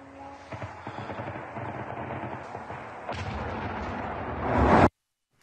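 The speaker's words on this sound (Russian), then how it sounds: "Стрельба и взрывы ночь напролет" Dense, continuous gunfire mixed with heavy booms and explosions rumbling without pause through the night over a village near Kursk, building louder toward the end before cutting off abruptly.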